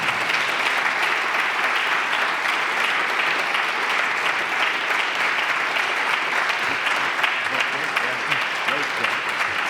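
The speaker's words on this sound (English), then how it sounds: "Let's give Andy a round of applause." Lecture audience giving sustained, dense applause for a climate science talk, a steady wash of many hands clapping at close range for the full stretch.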